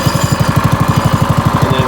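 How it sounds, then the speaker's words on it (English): A Harbor Freight drift trike's small engine runs close by, chugging in a fast, even rapid-fire pulse, loud and steady with no voices. "we're going to start the drift trike up here again."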